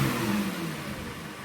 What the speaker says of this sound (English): Rev it one more time.